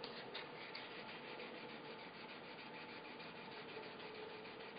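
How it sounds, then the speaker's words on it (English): A sheet of acrylic is sanded with fine 600 grit sandpaper, producing a steady, continuous soft rubbing hiss, close and fairly quiet, with no talking. "Each time you do sanding, you're going to do less and less work, and then finally you hit it up with some 600."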